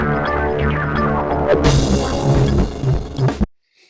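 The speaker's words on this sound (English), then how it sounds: "it's the sound of circuits failing" Sped-up PowerSag amplifier sag effect, a starved, sputtering distorted signal with broad harmonic bursts that thicken midway, then cuts off abruptly into silence near the end.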